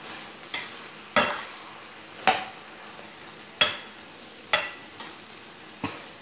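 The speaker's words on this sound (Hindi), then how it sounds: "अब हम इसमें डालेंगे टमाटर भी पहले, तो ये देखिए, और इसको और थोड़ी देर मिक्स करके ढाक देंगे" A spoon stirs ridge gourd curry with tomatoes in a pan, giving sharp scraping strokes at irregular intervals over a soft, steady sizzle of frying.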